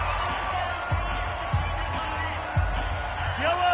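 Stadium crowd noise fills Arrowhead in a Chiefs football video game, a broad steady roar with occasional thumps and whoops under ongoing talk.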